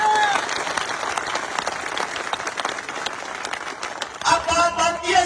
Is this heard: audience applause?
yes